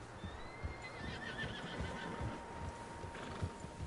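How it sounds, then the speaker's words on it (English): Horses in Red Dead Redemption 2 whinny and neigh in the distance while hooves clip-clop at a steady pace, all over a quiet ambient hum. "Horses, quite a few of them."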